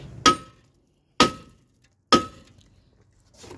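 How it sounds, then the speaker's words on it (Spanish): Three sharp hammer blows ring out on a brake disc of a Mercury Villager, evenly spaced metallic strikes that each fade quickly, close and loud, with quiet between them. "tres golpes que le di y me soltó el freno"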